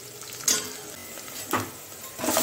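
Sambar tempering of chilies, onion and curry leaves sizzles softly in a pan, broken by three scraping stirs of a spoon against the metal, close up and with no one speaking.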